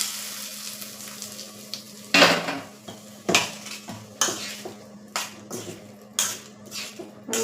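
A spoon stirs spicy potato bhaji in oil in a pan, making a rhythmic series of scraping, clinking strokes about once a second over a faint sizzle, close up and without talk.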